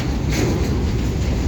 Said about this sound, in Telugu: ఇప్పుడు ఎంటీగా వెళ్తుంది లోడ్ వేసుకోవడానికి ట్రైను